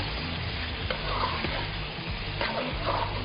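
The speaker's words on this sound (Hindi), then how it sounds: "इस करके अच्छी तरह भुनाई करेंगे।" Curried mince with tomato, onion and green chilies sautéing in a pan, a steady close sizzle and fry broken by occasional stirring scrapes, with no talking.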